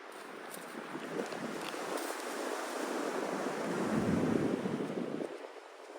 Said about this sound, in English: Listen to the waves crash in the background.